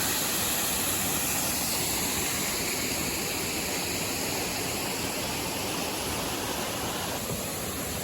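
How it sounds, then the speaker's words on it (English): Upper falls of a small waterfall in a Tasmanian forest, a steady broadband roar of falling water, constant and moderately distant, with no voices over it. "Here we are now at the upper falls."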